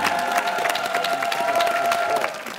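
Studio audience applause on a Korean TV variety show stage, steady dense clapping mixed with some crowd cheering, sustained and fairly loud throughout before tapering slightly at the end.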